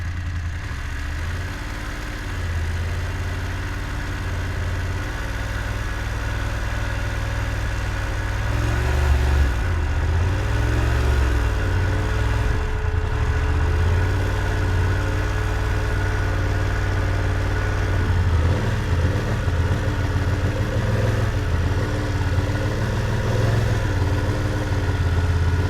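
A motorcycle engine idles steadily and close by throughout a slow-speed turn during a U-turn riding drill, a continuous low rumble with slight swells and no voices.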